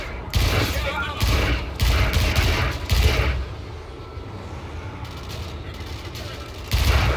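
Video game gunfire during a squad battle against Mars enemies, with repeated bursts of shots and mechanical clatter in an ongoing firefight, fairly loud, with a voice talking over it.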